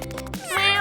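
A small cat meows once, close and clear, the cry rising and wavering for under a second, with a brief voiced sound just before it.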